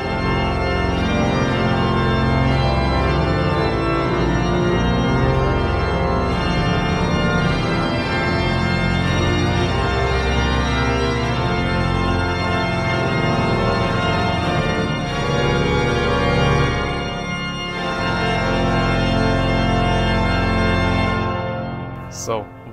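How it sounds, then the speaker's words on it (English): Hinsz pipe organ in the Bovenkerk at Kampen, Netherlands, sounding the principal stops of the Hauptwerk: a loud, full, sustained chordal texture rich in harmonics that holds steady for about twenty seconds, then releases into a reverberant fade. "at least all the principal stops of the Grand Org, or the main organ, the Hauptwerk, it sounds like this."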